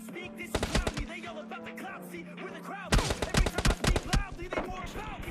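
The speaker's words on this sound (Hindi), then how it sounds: "वो बंदा मुझ पर कर देता फायर" Rapid bursts of gunfire ring out during a solo match in PUBG Mobile Lite, a battle royale shooter, with sharp repeated shots over game noise while someone talks excitedly throughout.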